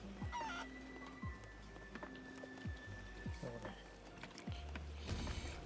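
Chicken clucks in the pirate video game Sea of Thieves, heard as faint, repeated short squawks over a steady rain-like ambient bed with clicks and creaks.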